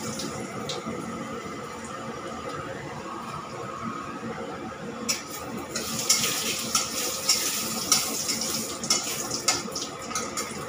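Five-spice and dried red chilies frying in mustard oil in a pan for a bori and tomato sour dish, a steady close sizzle with brighter crackling bursts and a few stirring scrapes in the second half.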